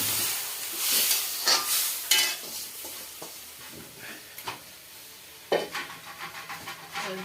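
Dal being added to hot oil in a pan and stirred: a soft, steady sizzle and hiss broken by scraping stir strokes and a few louder clattering bursts, close and fairly quiet.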